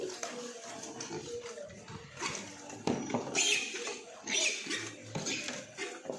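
Pigs crowd together eating and fighting, a busy, fairly faint jumble of grunts, squeals, snuffling and scuffling that rises in short bursts throughout.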